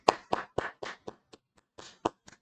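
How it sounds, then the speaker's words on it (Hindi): A handful of separate claps or hand taps during a Hindi-language finance lecture, ten or so uneven strikes spread over a couple of seconds, close and fairly quiet. "तो गाइज एक बार जोरदार तालियां हो जाए।"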